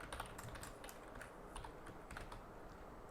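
Code being typed on a computer keyboard, with quick, irregular clusters of light key clicks at close range, quiet and steady throughout with no voice.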